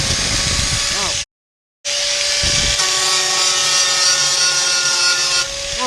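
Harsh, continuous close grinding on a Ford truck's metal as a tool box bracket is prepared, loud and abrasive, broken by one brief cut-off before resuming.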